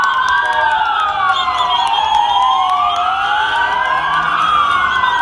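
Police vehicles with sirens in a convoy on a street during a 23 Nisan children's day celebration in Turkey: loud, continuous wailing sirens overlapping and rising and falling together, close by, with no speech.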